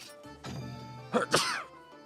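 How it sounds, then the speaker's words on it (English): A single sneeze: a short inhaled buildup followed by a sharp, noisy burst, close to the microphone. "Hooray for sneezes."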